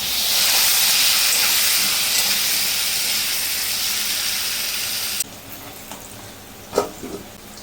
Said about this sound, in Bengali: মানে ভাত ফ্যান ঝাড়া হচ্ছে